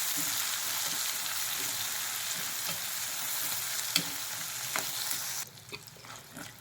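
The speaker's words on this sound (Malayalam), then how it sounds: "ആരിഞ്ഞ ഉള്ളിയും പച്ചമുളകും ചേർത്ത് അത് നല്ല ഒന്ന് വഴറ്റിയെടുക്കാം" Onions and green chillies sauté with urad dal and chana dal in hot oil, a steady close hiss of frying that runs throughout with a few light stirring clicks, easing slightly near the end.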